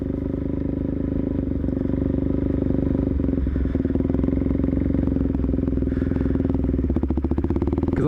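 A dirt bike engine drones continuously close by on a dirt surface, with clattery mechanical rattle and changing throttle as it moves.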